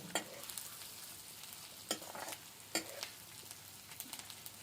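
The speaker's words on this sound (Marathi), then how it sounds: "हे पुन्हा थोडंसं अलट पलट पलटी पलटी करायला लागले कारण की जास्त येत करपून त्याला चव लागणार नाही" Cluster beans fry in a pan while a spatula turns them, a low continuous sizzle broken by several sharp scraping stirs at irregular intervals, close and fairly quiet.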